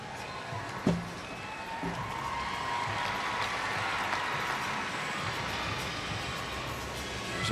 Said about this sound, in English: See the crowd react to that?